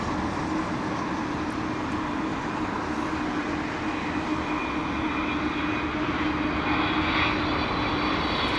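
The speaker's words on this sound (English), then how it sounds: "Air Canada 777 with the eye mask on the windows." Air Canada Boeing 777 engines at London Heathrow Airport, a steady loud jet roar with a constant whine, sustained throughout without letup.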